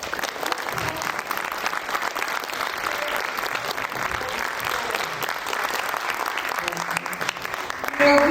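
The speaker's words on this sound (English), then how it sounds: "let's give them another great big round of applause" A museum audience gives a big, continuous round of applause at a First American Museum event, a dense, steady clatter of many hands with some voices mixed in, swelling slightly at the very end.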